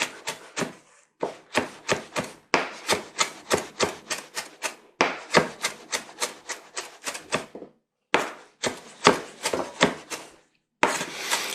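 A knife chopping beef bone marrow on a cutting board: rapid, rhythmic strokes in bursts of several cuts, each a sharp close thud, with brief pauses between runs.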